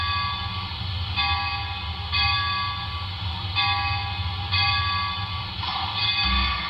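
Sound-equipped HO scale Broadway Limited Great Northern S-2 brass hybrid steam locomotive model ringing its bell, with steady, repeated metallic clangs about once a second over a low chuffing rumble.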